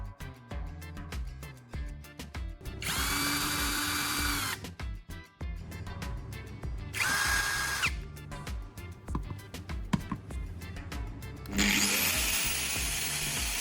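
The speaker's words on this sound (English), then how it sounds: "While it spins, I'll gently apply it to the grinding disc." A power drill spins a metal rod pressed against a grinding disc, giving bursts of high whining grind that start and stop in several passes, separated by quieter mechanical whirring, all close and loud.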